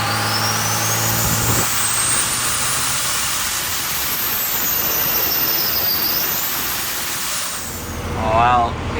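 VP44 diesel engine with a 67/70 turbo on a dyno, a loud sustained roar with a rising turbo whistle climbing through the pull, then easing off before a brief lower rumble at the end.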